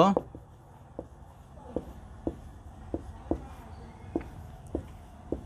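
Chalk or marker writing numbers on a board in a maths lesson, a series of light taps and short strokes at an irregular rhythm, close and moderately loud, under a man's steady speech.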